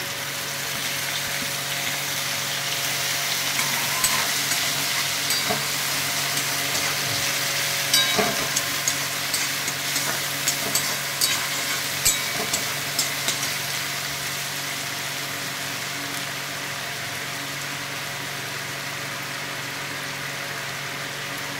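Onion paste fries in a pan for fish biryani with a steady, dense sizzle and hiss, plus occasional faint clicks of a utensil, continuous and close throughout.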